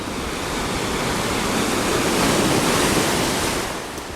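Steady wash of sea waves on the shore at Alicante, Spain, a continuous broad surf roar that swells slightly and fades near the end, with some wind and no talking.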